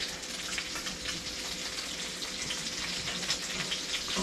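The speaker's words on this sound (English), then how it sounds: "the smell and sound of frying meat" Continuous crackling sizzle of meatballs frying in a pan, close and steady, with dense popping and spitting throughout and no talking.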